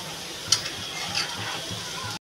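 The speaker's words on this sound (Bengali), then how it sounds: "আর একটু ভাজবো পনিরটা।" Paneer cubes frying in a pan, a steady close sizzle throughout with a couple of brief stirring scrapes, no talk.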